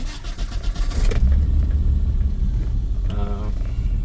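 A BMW 325is fitted with a cammed and tuned 2.9L stroker engine idles roughly, giving a low uneven rumble up close that carries on steadily under a brief voice.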